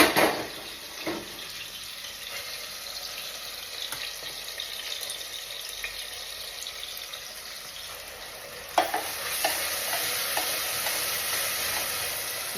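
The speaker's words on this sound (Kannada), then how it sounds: "ಒಗ್ಗರಣೆ" Steady hiss of tempering spices sizzling in hot oil, with occasional stirring clinks; a sharper burst of crackling near the end as something is added.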